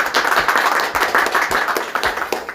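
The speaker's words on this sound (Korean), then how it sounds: "큰 박수 부탁드리겠습니다." A small group claps for a city mayor at an urban regeneration interview, a few distinct rhythmic hand claps close by with no talk.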